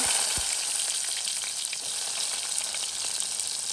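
Shallots and fenugreek fry in a pan, a steady, dense hiss of sizzling oil with faint stirring taps, close and constant throughout.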